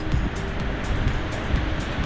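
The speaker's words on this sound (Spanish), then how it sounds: "Se oye la fuerza del agua ahí, tremendo." River water rushing through the gorge below Caminito del Rey in Malaga, a steady, loud roar of flowing water mixed with gusty wind noise on the microphone.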